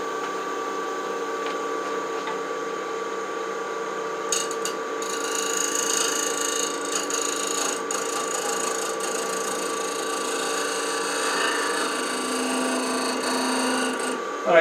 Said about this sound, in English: I'm going to use a shear scraper, kind of refine that edge.